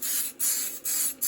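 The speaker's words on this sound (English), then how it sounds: "Now I'll spray the accelerator on," Four short bursts of aerosol glue accelerator spray hiss in quick succession, close and bright, each separated by a brief pause.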